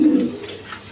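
A red Rajgolla pigeon in a coop gives a brief, soft coo at close range, fading quickly into low background noise.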